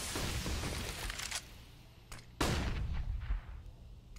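Gunfire in a first-person shooter round, with shots passing through a wooden board: bursts of shots over the first second and a half, then a sharp loud report followed by more rapid fire. Nobody speaks.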